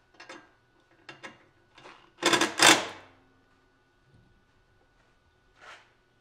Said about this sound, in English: we'll get 13 millimeter wrench on that